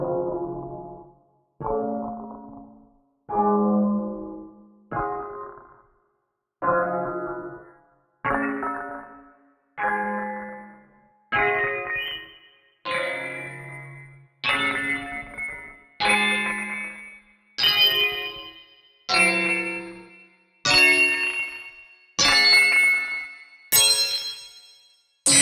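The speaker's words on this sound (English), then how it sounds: "I kind of ended up with this FM bell sounding thing" Bright FM bell-like synth tone from the Soundpaint Bras Bouncing Springs instrument, played as a rising sequence of about fifteen separate struck notes, each ringing and decaying, growing higher and brighter toward the end, alone without voices.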